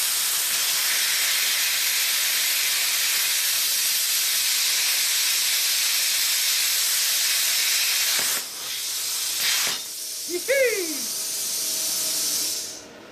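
Compressed air hisses steadily and loudly from a plasma cutter during post-flow, running several seconds before cutting off abruptly, followed by quieter background and a brief tonal squeal.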